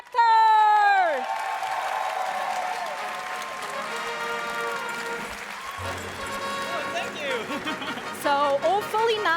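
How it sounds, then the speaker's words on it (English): A convention audience at a cosplay contest bursts into loud applause and cheering for the runner-up, a dense, sustained roar of clapping and whoops close by, with music and a voice carrying through underneath. "Let's take a round of applause here for our runner-up"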